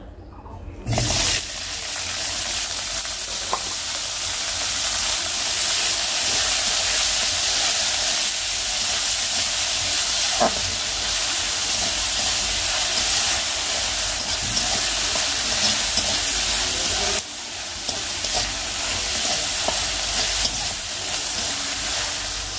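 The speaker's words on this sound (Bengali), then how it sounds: "আমার শাকটা কিন্তু আমি অনেকক্ষণ ধরে বেশ কড়া করে ভেজে ফেলছি" Leafy greens (shak) frying crisp for a long while in oil with plenty of onion, garlic and chili, giving a steady, loud broadband sizzle and hiss throughout, with a brief dip partway through and no talking.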